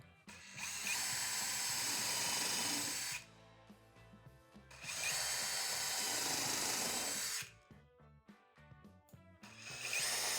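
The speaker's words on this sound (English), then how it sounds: "We're going to drill and countersink some holes and throw some screws." Power drill boring and countersinking screw holes in the wooden runners of a table saw miter sled, heard as three long loud whirring bursts, each ending in a stop, with quiet pauses and small knocks between them.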